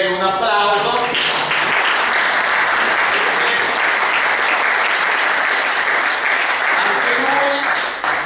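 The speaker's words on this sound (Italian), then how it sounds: "Stefano Tenenti, a cui dedicherei un applauso." At a political list presentation in Ancona, an audience applauds a parliamentary candidate with loud, steady clapping that fills the room, with a voice briefly audible at the start and near the end.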